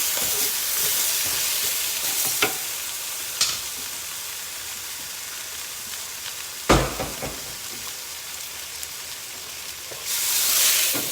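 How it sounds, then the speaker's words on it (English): Potatoes frying in a pan give a steady, loud sizzle throughout, broken by a few sharp scrapes and clanks as they are stirred, with the frying hiss swelling again near the end. "Let's stir my potatoes real quick."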